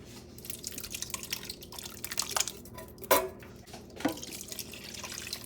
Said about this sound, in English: I just added a little bit of water to the can to rinse it out and add it in there.